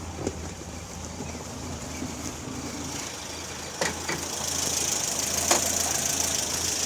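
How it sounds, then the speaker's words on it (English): Steady 1962 Triumph TR4 engine idling under the open hood with a smooth, even hum and faint ticking, close by, with a couple of brief clicks and no talking. "Let's take a look under the hood while it's running so you can see how smooth it is."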